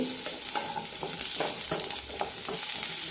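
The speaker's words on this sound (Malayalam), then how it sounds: "മുറിച്ച് വെച്ച കഷ്ണങ്ങൾ ഇട്ട് കൊടുക്കാം രണ്ട് മിനിറ്റ് നന്നായി വഴറ്റി കൊടുത്താൽ മതി" Chopped kohlrabi pieces sauté in a little oil in a pan for sambar, giving a steady sizzle with repeated scraping stirs throughout, close and continuous.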